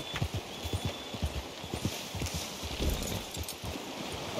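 Horse hooves walking in Red Dead Redemption 2: a close, even clip-clop of steady hoofbeats on the ground, with a soft outdoor ambience behind and no talking.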